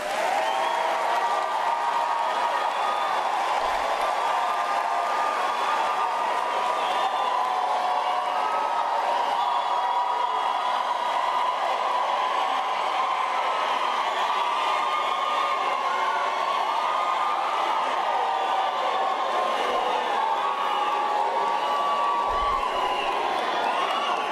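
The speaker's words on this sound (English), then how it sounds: "we give the graduates a thunderous round of applause" Graduates at a university autumn graduation ceremony receive a large crowd's sustained applause with scattered cheers and whoops, a steady dense roar filling the hall from start to finish.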